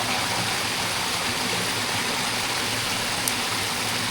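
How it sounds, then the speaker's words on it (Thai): Floodwater rushes steadily through a rain-swollen stream beside rice paddies in Laos, a dense, even gush and gurgle that continues without a break. "นี่ก็ขึ้นมาเดี๋ยวน้ำไหลแบบนี้"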